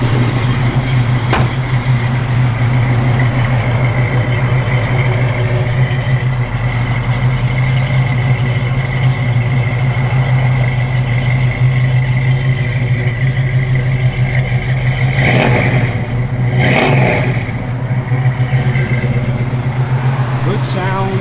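A 1965 Ford Mustang 2+2 engine idles with a steady, loud, close rumble for a long stretch, with a couple of brief blips of revving toward the end.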